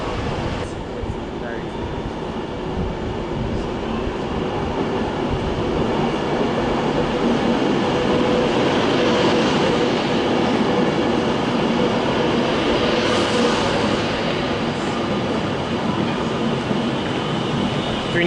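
A Class 390 electric train running empty passes close by, a steady loud rolling rumble with rail hiss sustained throughout, swelling slightly toward the middle and end.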